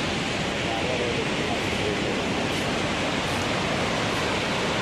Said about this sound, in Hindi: ये जो आपको झरना गिर रहा है दिख रहा है, ये 144 फीट ऊपर से गिर रहा है